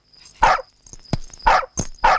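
A dog barks several times in short, loud bursts with brief pauses between them, close by, with no talking.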